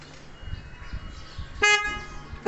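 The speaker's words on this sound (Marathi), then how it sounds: "हॉर्न ऐकायचं आहे." An air horn fitted to a Suzuki Access 125 BS6 scooter gives one loud, close, sustained toot lasting under half a second, followed by a brief second blast at the very end, over faint background noise.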